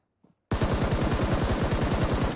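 Automatic gunfire in a multiplayer shooter match: a loud, continuous rapid burst of evenly spaced shots starts abruptly after near silence and keeps going to the end.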